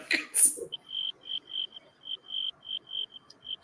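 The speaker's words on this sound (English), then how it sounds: "Yes, the crickets." A single cricket chirps in a steady series of short, evenly spaced trills, fairly close and clear against a quiet background, after a brief burst of noise at the start.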